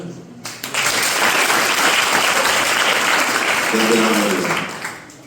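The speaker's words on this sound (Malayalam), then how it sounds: "നിറഞ്ഞ കൈയടി കൊടുക്കുക" An audience at a college entrepreneur meet breaks into loud, sustained applause that swells quickly, holds dense clapping for several seconds, then fades at the end.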